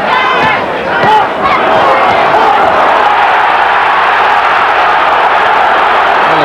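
A large crowd at a heavyweight boxing match between Tim Witherspoon and Frank Bruno roars and cheers in a loud, sustained swell that fills the arena.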